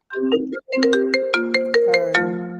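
A mobile phone ringtone plays a bright, repeating electronic melody of quick tonal notes, loud and close, after one brief opening phrase and short pause, with no talking.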